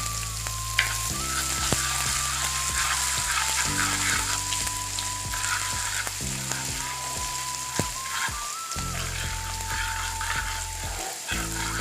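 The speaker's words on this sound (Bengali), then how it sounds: "রসুন চপটা দিয়ে দিচ্ছি আদা চপটাও দিয়ে দিচ্ছি" Chopped garlic and ginger fry in a pan with a continuous crackling sizzle under steady background music, with a few sharp clicks along the way.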